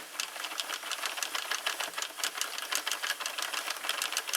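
A Sentro knitting machine is cranked by hand through rows of LBY Fishermen's Wool, giving a quick, regular clicking clatter at close range, moderately loud and continuous, with no speech.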